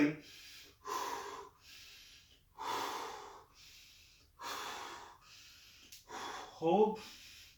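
Heavy breathing during a core exercise: a series of loud, forceful exhales and inhales in a steady rhythm, close to the microphone, ending in a strained gasp.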